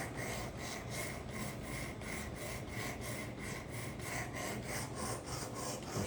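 Karambit blade stroked back and forth across ceramic sharpening stones, a steady rhythmic rasping scrape repeating about twice per second, close and continuous with no talk.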